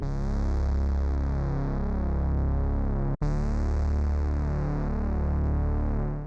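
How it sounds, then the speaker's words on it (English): A deep, steady synth bass line pulses continuously with a loud, dense tone, briefly cutting out for an instant midway before resuming. "Next off, I added this bass."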